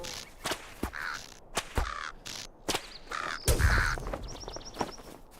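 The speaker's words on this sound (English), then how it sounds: "Bird." Crows cawing in the video game Lord of the Rings Online, a string of sharp, harsh caws spaced irregularly and close by, mixed with sudden snapping hits and rustling movement.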